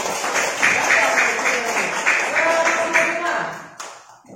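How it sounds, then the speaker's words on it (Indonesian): Classroom group applauding during a teacher-training session between group presentations; a dense patter of clapping fills most of the span, then tapers off at the end, with voices faintly mixed in. "Beri tepuk."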